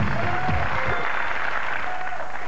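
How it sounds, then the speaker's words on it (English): Studio audience applause closing a British dating show segment, a continuous broadband wash of clapping at steady volume, with a faint tone or voice briefly underneath. "Give a nice round of applause, ladies and gentlemen."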